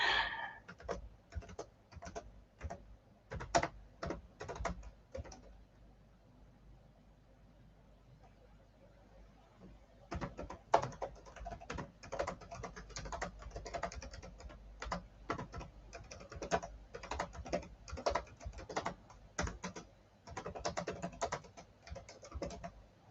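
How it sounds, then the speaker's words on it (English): Typing on a computer keyboard, with bursts of rapid clicking keystrokes, a pause of several seconds, then a longer steady stretch of close, crisp key taps. "I'll just type a message to Graham."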